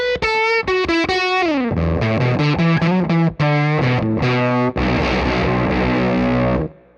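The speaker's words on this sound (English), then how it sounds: "This is a nice reproduction of a vintage effect where you have a nice dirty fuzz and an octave up." Electric guitar through an Octavix fuzz octave-up pedal, giving a dirty, gnarly vintage fuzz with a bright upper octave; quick melodic notes give way to held chords and a final sustained, buzzing strum, loud and close.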